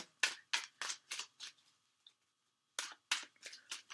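Tarot cards being shuffled in a series of sharp riffling bursts, about five quick ones, a short pause, then four more, close and clear with no talking.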